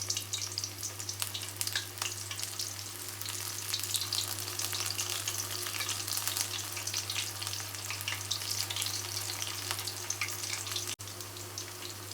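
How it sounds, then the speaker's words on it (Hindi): Palak pakoras of spinach batter deep-frying in hot oil in a kadhai, a dense, continuous crackling sizzle that holds steady throughout, close and without speech. "इसी तरीके से मैं सारे पकौड़े डालती जाती हूँ और फ्राई करती जाती हूँ"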